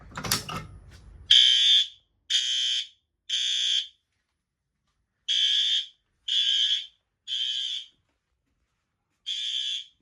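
A Gentex Commander 3 strobe alarm under test gives a series of loud, shrill electronic beeps in separate short bursts with silent gaps between them, after a brief clatter at the start.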